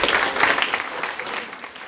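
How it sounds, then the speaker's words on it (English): A short burst of audience applause at a science lecture on electrified water, brisk clapping from a crowd that fades out within two seconds. "So, round of applause."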